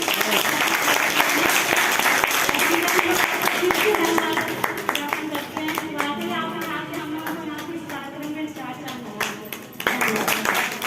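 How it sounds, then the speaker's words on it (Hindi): Applause at a block auditorium school program, acknowledging a promise to build a boundary wall: dense rhythmic clapping from many hands, strong at first, easing slightly midway, with voices audible underneath. "उसके लिए आप सभी लोग जोरदार ताली"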